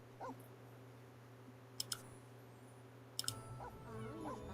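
A pet dog in The Sims 4 whimpers in a few faint, short, wavering whines over a steady low hum, with sharp clicking bursts in between.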